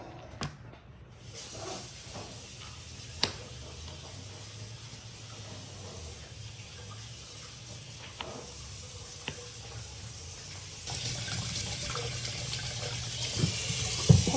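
Water runs steadily from a kitchen tap while squash are rinsed under it, a soft continuous splashing with occasional faint knocks and clinks, growing a little louder toward the end.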